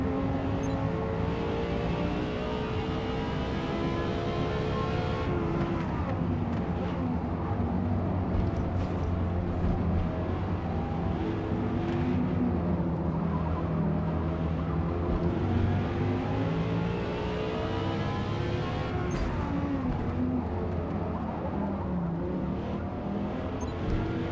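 A McLaren Senna's engine revs in the video game Gran Turismo 7, rising and falling through gear changes with sweeping harmonic climbs, loud and continuous for over twenty seconds, with no talking.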